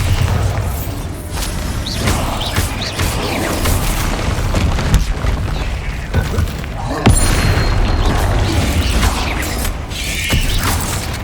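A Bombarda spell explosion in Hogwarts Legacy gameplay sounds as dense, booming combat noise with mechanical clanks and bursts over a steady loud rumble throughout.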